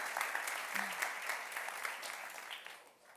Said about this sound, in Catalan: Un fort aplaudiment per ell, sisplau.